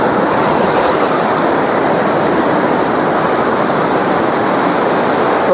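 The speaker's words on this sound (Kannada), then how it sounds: "ಈ ಕಡೆ ಎಲ್ಲ ಫುಲ್ಲು ನೀರು ವೈಟ್ ಒಂಥರ ಮಿಲ್ಕ್ ಥರ ಬೀಳ್ತೈತೆ. ಎಷ್ಟು ಫೋರ್ಸ್ ಐತೆ" Water thunders with great force through the Tungabhadra dam, a loud, unbroken roar of milky white torrent filling the scene close up, with no voices over it.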